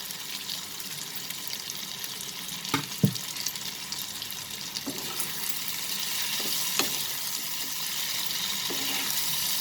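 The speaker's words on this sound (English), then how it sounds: "We'll saute this also for a minute so that the prawns get nicely coated with the spices." Prawns and spices sautéing in a pan for prawn and potato curry: a continuous sizzle with scattered clinks and scrapes of a utensil moving the mixture, close and without speech.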